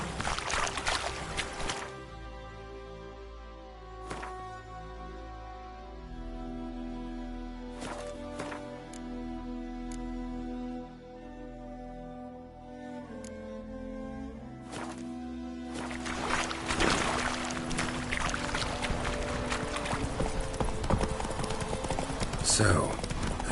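Horse hooves trotting in The Witcher 3, a steady rhythmic clip-clop running throughout under background music and game sounds, moderately close, with brief voices at moments.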